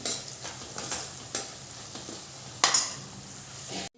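Onion fries in oil in a pan for home-style sambar, a soft steady sizzle punctuated by a few utensil scrapes and one sharp clink, ending abruptly with no talking.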